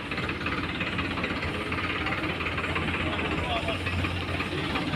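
A New Holland 3630 tractor sits idling at a tractor market, giving a steady, unbroken diesel rumble with a constant low throb and broadband engine noise throughout.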